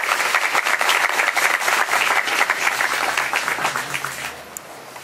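Applause at the presentation of a municipal medical unit: a crowd claps loud and fast at first, then gradually thins and fades as the clapping winds down.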